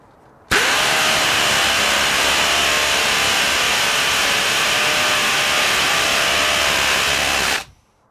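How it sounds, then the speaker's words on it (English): A DeWalt Flexvolt hammer drill with a 7/8 inch bit runs steadily into concrete, a loud continuous whirring grind that starts abruptly, holds for about seven seconds and then cuts off, with no talking over it. "7/8 of an inch bit. That's really something. So this baby's got some serious power as far as a hammer drill."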